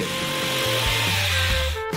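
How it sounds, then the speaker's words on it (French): An electric jigsaw buzzes through plywood, its motor pitch shifting as it cuts, then briefly stopping near the end. "Maintenant, vous devez couper le contreplaqué pour les parois avec une scie sauteuse électrique."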